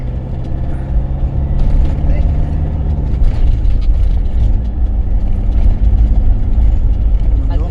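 Trucks rumbling nearby in traffic near a port exit in Morocco, heavy low engine drone with a hiss of air brakes, loud and close throughout.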